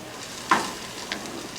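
Chorizo, fresh garlic and onion sauté in a pan for paella, a soft close sizzle with a couple of brief stirring scrapes, no talking.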